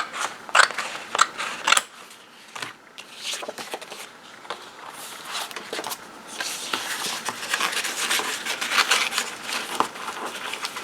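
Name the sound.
scissors cutting paper for a book pocket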